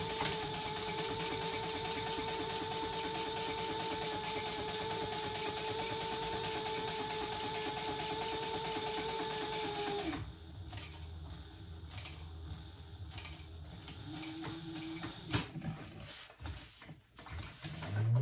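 A sewing machine top stitching a handbag runs in a steady, fast mechanical whir for about ten seconds, then stops, leaving faint handling clicks and rustles of fabric close by.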